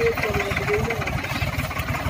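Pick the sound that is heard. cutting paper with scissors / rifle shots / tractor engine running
tractor engine running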